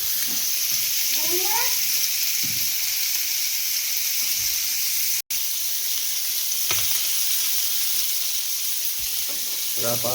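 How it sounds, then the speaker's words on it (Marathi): Mutton fries in a pan with a constant close sizzle, interrupted by occasional stirring knocks and scrapes, while someone speaks briefly near the start and the sizzling carries on after a sudden momentary cut. "मटण आता मी तलतून बघूया. फ्राय मस्तपैकी फ्राय करतो."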